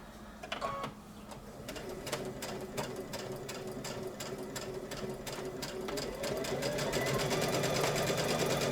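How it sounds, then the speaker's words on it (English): A sewing machine stitches steadily around unpinned fabric pieces, its close, continuous mechanical whir holding an even rhythm and growing louder and busier toward the end. "You're just going to keep sewing around."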